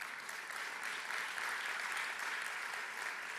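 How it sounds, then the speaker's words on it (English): Conference audience at a Jamaican investment business event applauding, a faint, distant, steady wash of clapping with no clear individual claps, lasting the whole stretch. "Round of applause."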